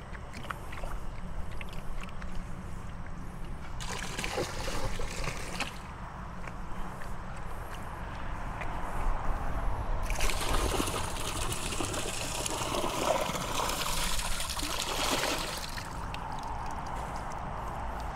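Water poured into a swimming pool while it is being shocked, a steady splashing pour that swells in two louder bursts over an otherwise continuous watery background.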